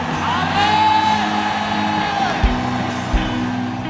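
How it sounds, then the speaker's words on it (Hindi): A church congregation shouts amen together in a loud, sustained crowd roar lasting several seconds, with a couple of sharp thumps toward the end. "आज ऊंचा आमीन नहीं चलेगा, आज चिल्लाने वाला आमीन चलेगा।"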